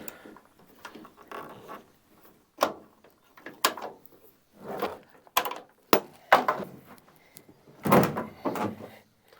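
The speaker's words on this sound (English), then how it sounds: "I'm going to try to remove the tailgate and just kind of slide it up in the bed" A tailgate comes off a GMC 3500 Duramax diesel pickup, with a series of separate metallic clunks, knocks and scrapes spaced irregularly and nearby as the gate is worked loose and moved.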